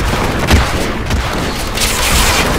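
Heavy enemy gunfire from Hitman: Absolution fills the scene, a dense, continuous barrage of shots and booms at close range with no pause across the stretch.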